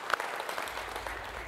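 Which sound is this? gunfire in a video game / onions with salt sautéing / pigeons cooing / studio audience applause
studio audience applause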